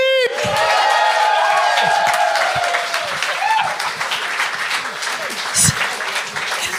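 A studio audience at a comedy gong show bursts into loud, sustained applause with whoops and cheers, dense clapping filling the whole stretch while voices call out over it.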